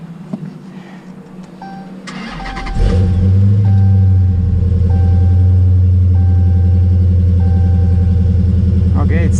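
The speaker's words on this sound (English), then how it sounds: "Okay, now you may start the vehicle." A 2018 Dodge Challenger 392 fires up after a couple of seconds of quiet clicks, cranking into a loud, deep, steady idle rumble close by.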